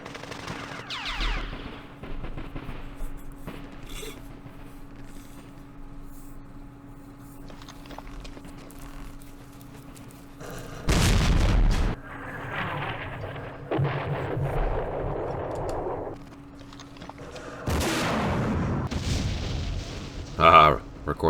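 Gunfire and explosions from Campaign Series Vietnam come as scattered bursts of shots and booms separated by quieter stretches, with loud blasts toward the end and a voice talking at times.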